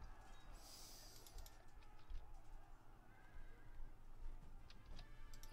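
Cavalry horses neigh and whinny in a Field of Glory II battle, with hooves clip-clopping beneath, a sharp neigh near the start and more whinnies later, set against steady battle ambience.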